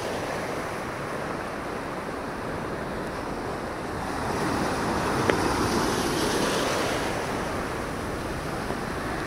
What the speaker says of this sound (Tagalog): Oh, nagsasalubong ang alon.